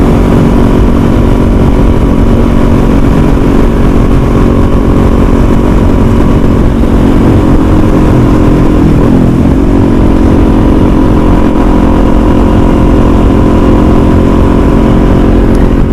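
A 2021 Kawasaki Z400 motorcycle cruising in fifth gear at about 6,500 RPM and 62 mph, its engine holding a steady, loud drone with constant wind rush throughout, no voices.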